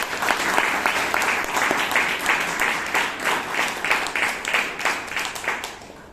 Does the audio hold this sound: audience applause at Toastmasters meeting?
yes